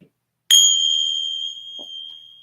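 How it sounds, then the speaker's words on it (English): A Buddhist bronze bell is struck once up close, giving a bright, clear tone that rings on and slowly fades over a couple of seconds. "I have the bell."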